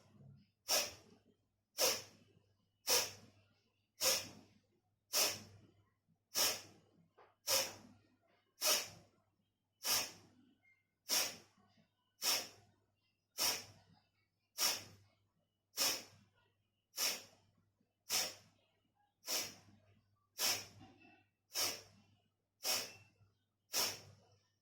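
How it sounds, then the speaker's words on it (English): Kapalbhati pranayama breathing produces about twenty forceful, sharp nasal exhalations in a steady, even rhythm, each a loud close snort-like puff separated by quiet pauses. "take a deep breath, inhale and exhale, start"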